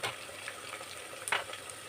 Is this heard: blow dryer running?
no